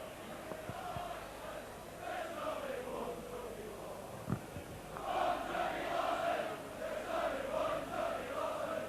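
Crowd at a 1994 Leeds v Bradford rugby cup match cheering in praise of Leeds player Dougie Lawton, a broad far-off roar that swells noticeably midway and stays loud to the end.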